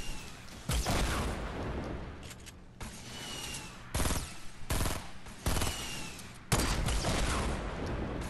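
Rocket launcher fired again and again in a shooter video game, each shot a sharp loud blast with a decaying tail, several in quick irregular succession at close range, no speech.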